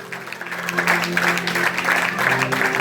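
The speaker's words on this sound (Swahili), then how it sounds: "Piga Yesu makofi." A church congregation claps together in sustained, even applause, filling the room at close range with no voices standing out.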